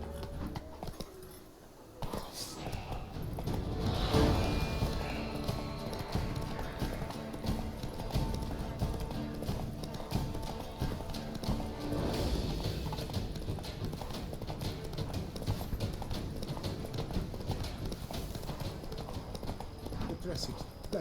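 Horse hooves galloping in The Witcher 3 game, a fast steady clip-clop close by that runs throughout with a brief whinny, while someone speaks over the hoofbeats.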